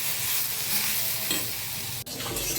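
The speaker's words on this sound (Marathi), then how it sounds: "बटाटे आपण जे उकडलेले होते त्याचे असं बारीक फोडी करून घ्यायच्या आणि ते परतायचे असे ते कांद्यामध्ये छान" Boiled potato pieces are tossed with onions in a pan, a continuous close sizzle with soft stirring scrapes and a brief sharp knock near the end.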